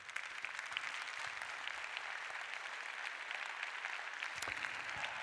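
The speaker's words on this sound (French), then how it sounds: "Applaudissez-vous, vous le méritez." Large conference audience applauding at the opening of a French healthcare event, dense continuous clapping filling the hall at moderate distance, no voices over it.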